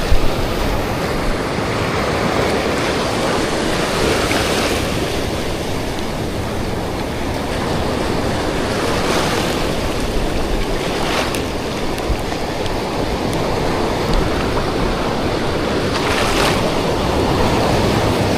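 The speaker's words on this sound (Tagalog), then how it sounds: "Palaki na ng palaki yung mga alon." Ocean surf crashing and washing continuously on a fishing shore, a loud, dense roar with periodic swells as bigger waves break, mixed with gusts of wind against the microphone.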